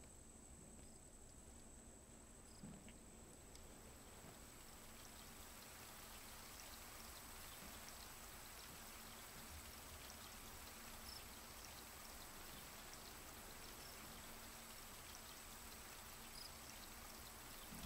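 Rain in the Raft survival game falls as a faint, steady hiss and patter, rising slightly over time with no other sounds and no voices.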